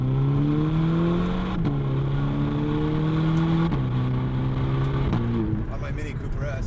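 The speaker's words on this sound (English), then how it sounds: "I just want to drive with the microphone on the exhaust" A VW GTI with a Borla S-Type exhaust and DSG gearbox drives and revs, recorded close to the exhaust. The engine note climbs steadily and drops sharply at each gear change, loud and continuous throughout.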